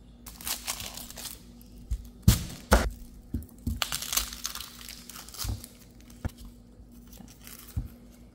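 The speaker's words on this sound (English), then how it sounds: "I'm mixing rosemary and lavender herb together. These are dry." Dry rosemary and lavender herbs crackle and crinkle as they are stirred and mixed together, with scattered close crunches and sharp snapping bursts over a quiet background hum.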